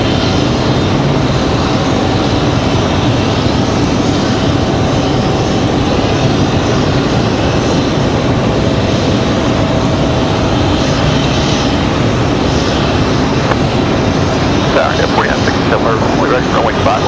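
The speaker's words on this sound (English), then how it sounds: "It's hard for me to talk over the startup of the CRJs." Regional CRJ jet engines spooling up at Raleigh-Durham International Airport, a loud steady roar that fills the whole stretch, with a voice talking faintly underneath.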